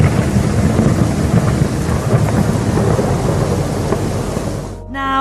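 Thunder from a lightning storm over the New World Trade Center rolls continuously with heavy rain hissing underneath, loud and sustained before cutting off abruptly near the end.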